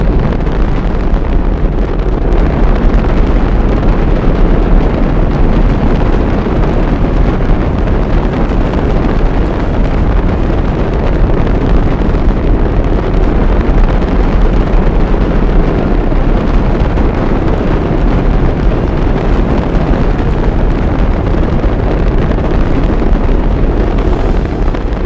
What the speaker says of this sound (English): All engines running. Commit. Liftoff. We have liftoff